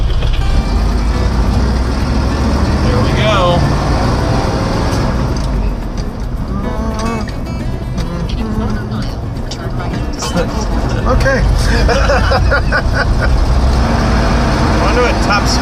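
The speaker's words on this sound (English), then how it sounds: "A 4-wheel drive crew cab tow truck." A heavy four-wheel-drive crew cab tow truck engine with a four-speed transmission rumbles loudly and continuously from inside the cab, with people talking briefly over the drone.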